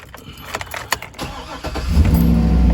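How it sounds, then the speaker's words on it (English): A Cadillac Escalade's engine cranks and fires up, rising from scattered clicks and rattles into a steady, loud idle rumble close by. "Go ahead and start the vehicle."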